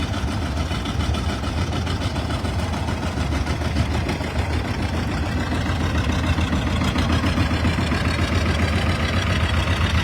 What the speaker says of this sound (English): Model R, this would have been the diesel version that John Deere came out with early on.